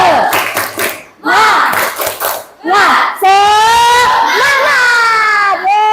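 Indonesian schoolchildren in a morning classroom chant the 'tepuk semangat' clap routine together, loud group voices rising in a rhythmic call with bursts of clapping over about six seconds.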